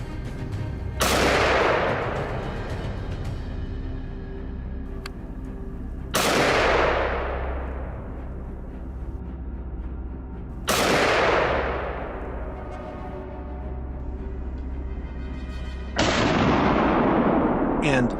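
Four loud gunshots during a wild boar hunt from a helicopter, spaced about five seconds apart, each a sharp close blast trailing off in a long rolling echo.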